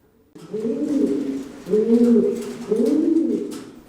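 Pigeons at a pigeon farm in Gopalpur village, Nachol, Chapainawabganj, coo in three repeated, rolling phrases, close and fairly loud, with no other sounds around them.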